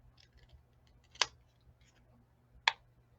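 Scissors trim paper for a balloon treat holder tag at close range, two crisp snips over a quiet background with faint paper rustling.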